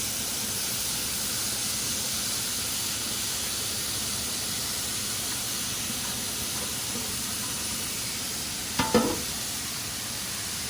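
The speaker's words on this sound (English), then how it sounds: "You gotta keep stirring it because the cauliflower rice will brown" Cauliflower rice fries in a pan with a steady, close hiss of sizzling, continuous throughout, with one brief scrape or clatter of stirring near the end and no talk.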